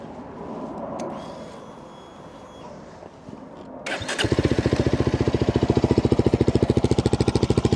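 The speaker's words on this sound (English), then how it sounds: "Nice little thump from that single cylinder engine there" A BSA Bantam single-cylinder motorcycle is started up: a few seconds of quiet rustling, then the engine catches and settles into a loud, close, rapid steady thumping idle.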